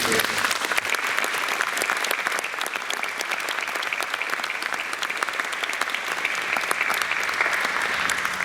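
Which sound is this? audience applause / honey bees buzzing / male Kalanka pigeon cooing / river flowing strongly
audience applause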